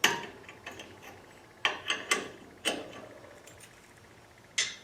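A lockable mounting plug is pushed into a RotoPax mount, giving a few sharp plastic clicks and knocks spaced apart in a quiet room, close and fairly faint.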